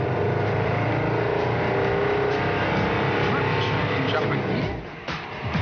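A Tata compressed-air car prototype pulls away with a loud, steady mechanical whir and hum heard from close by, easing slightly toward the end, while a voice talks over it.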